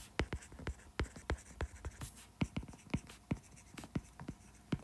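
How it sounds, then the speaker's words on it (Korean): Writing on a board during a classroom lesson, a quick series of close, sharp scratching strokes with short pauses between words and no voices. "흥선대원군이라고 써야지"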